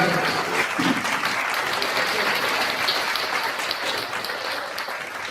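Steady, sustained applause from a seated audience at a student award ceremony held by a community society in Amreli, fairly close and full throughout, easing off slightly toward the end.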